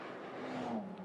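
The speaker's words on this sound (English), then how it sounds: "the bright yellow, very spectacular car, the Glickenhaus" A bright yellow Glickenhaus GT race car passes on the Döttinger Höhe straight at the Nürburgring during a VLN endurance race, its engine note rising and then falling as it goes by, fairly close and loud for about a second.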